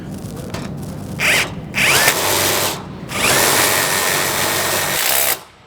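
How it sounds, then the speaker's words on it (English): An impact drill drives a self-tapping Tek screw into a metal plate on a chain link gate, a loud continuous whine rising in bursts over about five seconds, then cutting off abruptly. "we're going to put another Tex screw in on the opposite corner"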